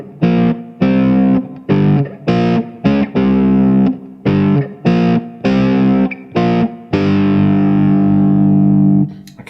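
A riff on a distorted electric guitar strung with heavier strings rings out loud and close as a series of chunky, stop-start power chords, ending on a long sustained chord that fades.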